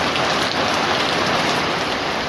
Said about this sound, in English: Rain, glorious rain.